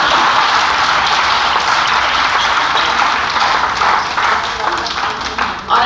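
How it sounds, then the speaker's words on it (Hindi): Dense, steady applause from a large audience at a Hindi poetry recital, continuous clapping that holds for several seconds and tapers slightly at the end, with no one speaking over it. "ताली बजाइए।"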